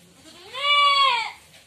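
A Boer goat kid in a freshly painted pen lets out one loud, close, wavering bleat lasting about a second, with quiet surroundings before and after.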